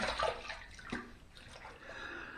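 A razor rinsed under running water during a wet shave: a short burst of splashing and trickling water, close and moderately loud, fading into a steady quieter flow.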